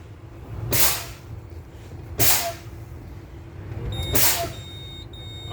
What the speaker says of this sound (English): my lower warning device activated, light and alarm came on